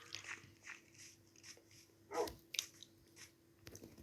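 A dog barks several times in a survival video game, short sharp yips and barks scattered across a few seconds, fairly close and clear with no talking over them.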